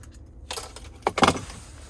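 A Cadillac Escalade key fob with remote start jangles briefly, a couple of quick metallic rattles close by after a quiet moment.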